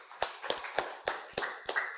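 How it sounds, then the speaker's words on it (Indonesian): Audience in a classroom presentation gives scattered applause for a student group, a handful of sharp, distinct claps arriving irregularly and fairly quietly with no speech. "Kita beri tepuk tangan buat teman-teman kita kelompok 3."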